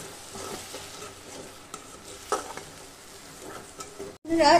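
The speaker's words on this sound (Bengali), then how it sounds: "এবার টমেটো পেস্টটা আমি এর মধ্যে দিয়ে দিচ্ছি বন্ধুরা। এবার বন্ধুরা এটাকে আমি এখন ভালো করে কষিয়ে নেব।" Tomato paste sizzles in a pan while being stirred for a soybean ghugni, with scraping spoon strokes over a low, uneven sizzle, close up; a short gap leads into a louder burst at the end.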